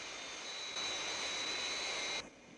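A steady, loud jet engine roar with a high whine comes from the Fireflash airliner taking off in the Thunderbirds episode, swelling briefly and then dropping off abruptly near the end.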